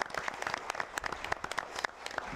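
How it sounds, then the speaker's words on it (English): Brief applause from an education event audience, a lively patter of individual claps at moderate volume, fairly close and continuous for a couple of seconds. "please give him a round of applause"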